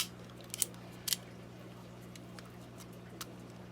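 A box cutter trims the plastic edge of a hole in a few faint, sharp clicks and scrapes, scattered over a quiet background.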